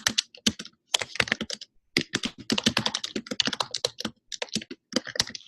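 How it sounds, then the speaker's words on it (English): Fast typing on a computer keyboard: dense bursts of crisp, close key clicks in quick irregular runs separated by short pauses, with no talking. "So just type in, Schreiber"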